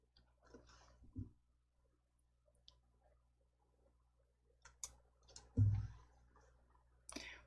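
Sharp mouse clicks on a computer while working in a word processor, a few separate dry taps spaced out over quiet, with faint soft shuffling between them.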